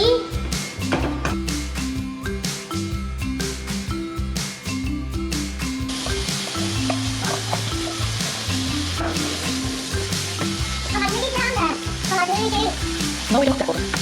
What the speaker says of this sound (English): Now we fry the bacon. No oil needed because the bacon has so much fat.